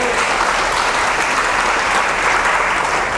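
A church convention crowd in Planeta Rica, Colombia applauds steadily and loudly, a dense continuous wash of clapping with no pauses.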